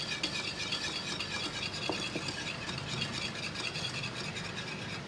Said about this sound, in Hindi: दही को अच्छे से हम फेंट लेंगे।